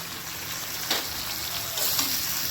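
Chicken pieces sizzling in a pan while being sautéed for a Bengali chicken curry, a soft steady crackle with a couple of brief louder spits, close and without talk.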